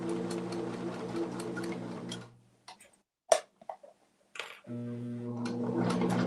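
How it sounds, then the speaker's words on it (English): A sewing machine back stitches on quilt blocks with a steady, humming whir. It stops for a moment among a few clicks and taps, then starts up again at full speed. "this time I'm going to do back stitching"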